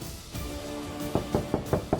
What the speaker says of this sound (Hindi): हम कब से दरवाजा पीट रहे हैं